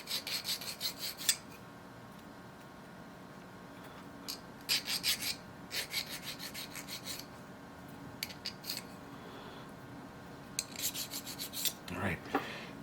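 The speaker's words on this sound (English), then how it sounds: "Run the file over it a little bit. Get the burrs off of it." A hand file rasps across a metal cam follower to take off burrs, in short bursts of quick back-and-forth strokes separated by pauses, close and fairly quiet, with no talking.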